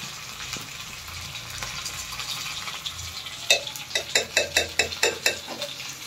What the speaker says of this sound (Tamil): கடுகு பொரிய ஆரம்பிச்சிச்சு.